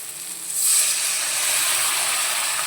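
Mustard-paste water poured into a hot frying pan, bursting into a loud, steady hiss and sizzle that rises suddenly and holds, heard close with no talking.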